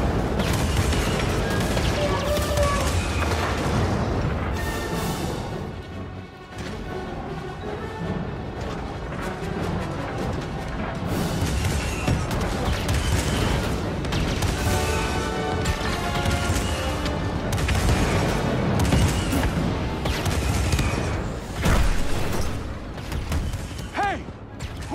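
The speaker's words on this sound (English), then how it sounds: "So that fires the cannon." Cannon and blaster fire booms in Star Wars Jedi: Fallen Order, dense rapid bursts of blasts, crashes and mechanical clatter layered with game music and voices, loud and continuous throughout.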